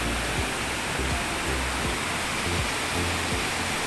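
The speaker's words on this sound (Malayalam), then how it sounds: "അങ്ങനെ നമ്മൾ മീൻമുട്ടി വെള്ളച്ചാട്ടത്തിലേക്ക് എത്തിക്കഴിഞ്ഞു." Meenmutti waterfall near Konni in Pathanamthitta, Kerala, gives a steady, loud, broadband roar of rushing water that fills the whole clip with no voices, while a few soft low thumps sit beneath it.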